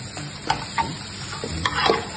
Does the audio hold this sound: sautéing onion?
yes